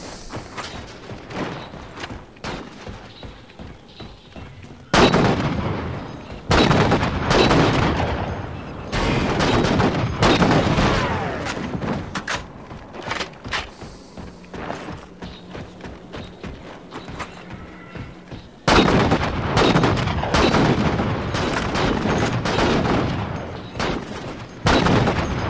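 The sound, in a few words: sniper rifle gunfire in a video game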